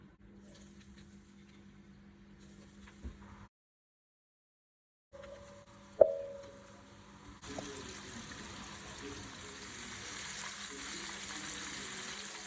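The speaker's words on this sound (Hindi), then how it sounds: "इस तरह बैजेस में सारे चिकन पॉप्स को फ्राई कर लेते हैं" Chicken pops frying in a batch of hot oil, a quiet sizzle that cuts out briefly, then a sharp clatter and a louder, steadier frying hiss building toward the end.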